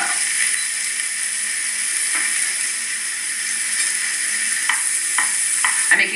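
Sliced mushrooms fry in a pan heated to medium-high, giving a steady, even sizzle with a few soft stirring clicks near the end.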